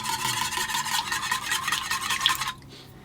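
Wet batter ingredients being whisked with a teaspoon of vanilla essence, a steady close scraping and stirring rasp in a bowl for about two and a half seconds before stopping abruptly.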